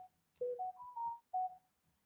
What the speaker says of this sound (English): I don't like when my phone ring like that.